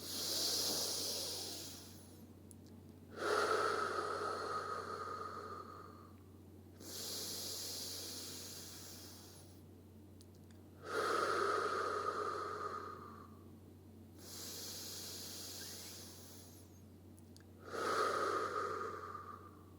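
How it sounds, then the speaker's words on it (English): Three slow nasal in-breaths, each a soft airy rush roughly every five seconds with quiet pauses between, close and gentle, taken during a group meditation over a faint steady hum. "For 3 breaths. In through the nose."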